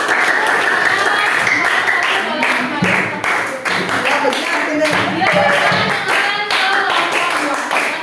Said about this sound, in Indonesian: Berikan tepuk tangan lagi sekali untuk kelompok